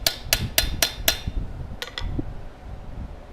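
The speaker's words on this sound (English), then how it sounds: "I'm going to rivet up the outside of this." Hammer riveting the handle onto a forged coffee scoop in a blacksmith shop, five sharp evenly spaced metallic strikes followed by two more after a short pause, close and loud.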